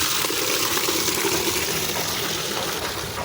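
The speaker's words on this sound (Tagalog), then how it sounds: "Kuha tayo ng tubig dito." Water running from a tap into a container for watering plants in a courtyard, a steady close gushing rush that fills the whole stretch without pause.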